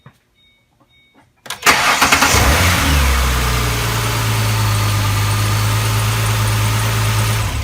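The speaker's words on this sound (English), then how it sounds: "So I'm going to hit enter and then go crank the car." A car engine cranks briefly after near silence, catches and settles into a steady, loud idle, checked with a Topdon BT100 battery load tester.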